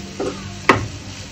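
A utensil briefly stirs chopped onions and prawns in a frying pan, one quick scrape with a faint sizzle underneath, close by.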